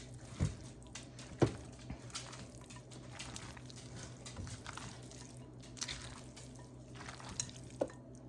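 Homemade bacon potato salad is stirred and mixed in a bowl, giving a few soft, wet squishes and scrapes spaced out over a quiet background.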